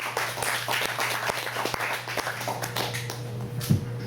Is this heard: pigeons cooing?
no